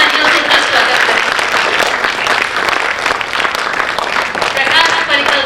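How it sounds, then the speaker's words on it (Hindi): Dense, sustained applause from a large theatre audience fills the whole stretch, loud and steady with many overlapping claps. "जोरदार तालियों से उनका स्वागत करें।"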